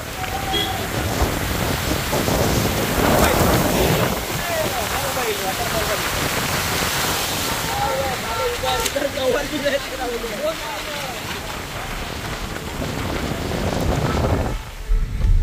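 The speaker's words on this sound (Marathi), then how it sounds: "पाऊस आहे." Steady monsoon rain hiss at Malshej Ghat, India, with gusty wind and water noise throughout, a voice talking intermittently over it.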